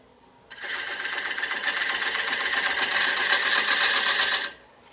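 A wood lathe takes a facing cut across a bowl blank, giving a steady buzzing, chattering drone that starts abruptly, holds for about four seconds and cuts off sharply, close and fairly loud with no talk.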